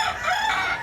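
Part of a rooster's crow, a loud, sustained, strained call held for under a second.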